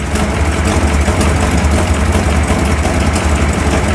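A 1957 Thunderbird's engine idles steadily after a cold start, a continuous deep rumble with a fine vibrating texture, close and loud with no voices.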